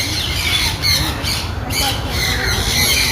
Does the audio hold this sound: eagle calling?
yes